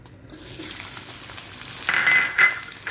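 Food frying in a pan in a home kitchen, a soft sizzle that grows louder and brighter toward the end, with a couple of sharp hissing bursts.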